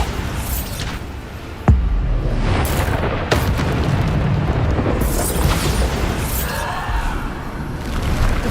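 Bombarda spell explosions in the Hogwarts Legacy video game, with a sharp blast near the two-second mark and another around three and a half seconds, over a dense, continuous rumble of combat effects.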